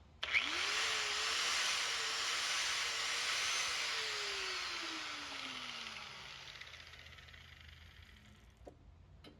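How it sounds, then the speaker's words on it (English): An angle grinder powered through a battery inverter whines steadily at close range, its pitch sliding down as it spins down, with no talking. "I also have this grinder plugged into it."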